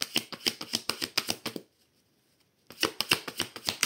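A deck of oracle cards being cut and shuffled, quick rhythmic card slaps close up in two bursts separated by about a second of silence.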